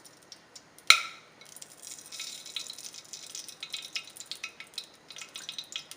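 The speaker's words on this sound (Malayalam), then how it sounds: "ഇനി ഒരു ചൂടായ കുക്കറിലേക്ക് നെയ്യ് ഒഴിച്ചു കൊടുക്കാം." Ghee poured into a heated pressure cooker gives one sharp splash, then a light, crackling sizzle that flickers unevenly and builds slightly over several seconds.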